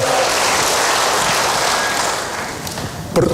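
Dense, continuous applause from a big church congregation, loud and even, thinning slightly toward the end before a brief burst.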